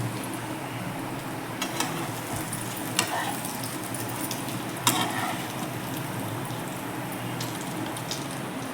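Fish frying in oil in a pan, a steady sizzle with a few sharp scraping or clinking knocks, close and continuous with no talking.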